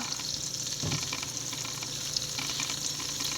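Wheat bonda balls frying in oil over a very low flame, a soft, continuous bubbling sizzle with gentle crackle and one brief stir, heard up close without talk.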